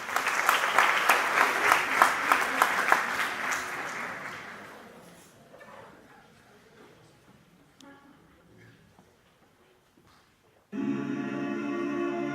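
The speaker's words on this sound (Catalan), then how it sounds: "Un fort aplaudiment." Loud applause from a concert audience at a Christmas show, dense clapping that fades away over several seconds before music begins.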